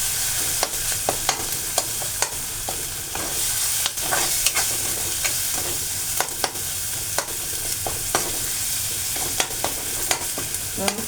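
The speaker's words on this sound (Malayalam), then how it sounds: "ഒരു രൂപ എല്ലാം കൂടെ ഒന്ന് നമുക്കൊന്ന് വഴറ്റ് നല്ലതായിട്ട് ഇതൊന്നെല്ലാം കൂടെ ഒന്ന് വഴറ്റി" Spices with garam masala and chili powder sauté in a pan, a continuous sizzle punctuated by frequent sharp spatula taps and scrapes, close and fairly loud.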